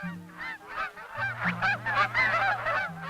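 A flock of geese resting at a sanctuary in fall, honking continuously, many overlapping calls at a moderate distance, with a low steady hum underneath.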